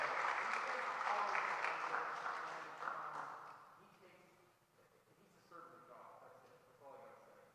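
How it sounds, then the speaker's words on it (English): A church meeting crowd claps steadily, the applause fading out over several seconds as a voice begins speaking beneath it. "I just want to give a round of applause to Phil."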